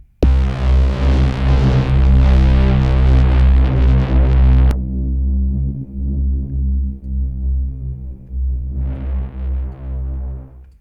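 A distorted synth braam built in the Vital synth: a loud, dense, droning blast with thick low harmonics that holds, then cuts to a rumbling sustained tone before a bright buzzy layer swells back in near the end.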